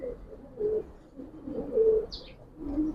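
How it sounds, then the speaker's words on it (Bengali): Bagha breed pigeons coo in low, repeated throaty phrases close by, with a brief higher chirp partway through and no voices. "দেখেন কবুতর দুইটা একটু দেখেন"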